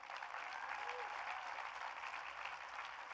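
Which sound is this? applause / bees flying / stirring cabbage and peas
applause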